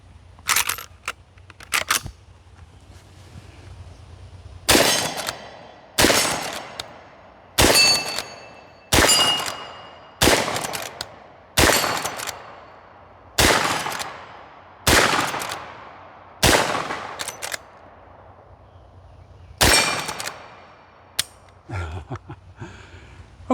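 Smith & Wesson 1854 lever-action rifle fires .44 Special rounds rapidly at steel targets, about a dozen sharp loud shots in quick succession with brief gaps for cycling the lever, each blast ringing out outdoors.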